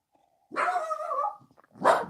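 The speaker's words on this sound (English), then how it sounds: "What are you barking at?" Dogs barking in a home, a long harmonic bark-howl burst followed after a brief gap by one more sharp bark, close and loud with no talk.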